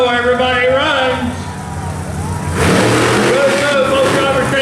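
Race trucks at a Tuff Trax event in Raleigh rev hard and pull away together, a loud rising engine roar that swells midway and carries under a commentator's voice.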